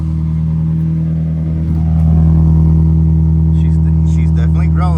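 A Toyota Prius engine runs with a steady, loud low hum that swells slightly partway through, with a voice talking briefly near the end.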